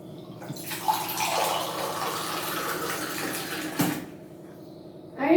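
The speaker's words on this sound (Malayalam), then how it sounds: "അരി നീ കഴുകണ്ട, ഞാൻ കഴുകിക്കോളാം." Rice being washed in water in a home kitchen, a steady close swishing and trickling of water that runs almost throughout, with a brief clatter near the end.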